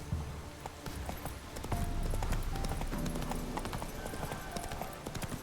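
Roach, the horse in The Witcher 3, gallops with rapid, continuous hoofbeat clip-clops over a busy game soundscape, sounding close and steady throughout.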